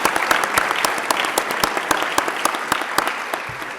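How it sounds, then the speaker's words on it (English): Audience applause at a school district teacher of the year awards show, a steady burst of many hands clapping close and loud throughout, with no voices over it. "Can we have another quick round of applause for the Lincoln Poetry team?"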